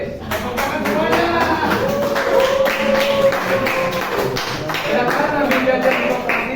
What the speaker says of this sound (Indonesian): Wih, tepuk tangan semuanya.